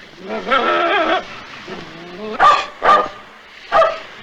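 A dog barks several times in short, loud bursts that come at uneven intervals, after a stretch of whining or howling tones, in an outdoor Western setting.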